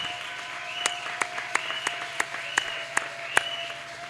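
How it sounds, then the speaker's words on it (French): A church congregation applauds, a steady patter of clapping with several sharp, distinct claps standing out, near and lively, with no speech over it. "Acclamons pour mon petit frère."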